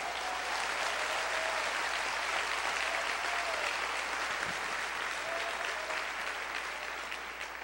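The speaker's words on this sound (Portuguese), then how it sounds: "Você pode aplaudir o Senhor?" A church congregation at a Baptist service applauds in a dense, steady wash of clapping that holds for several seconds at even loudness, then eases slightly at the end, with no voices on top.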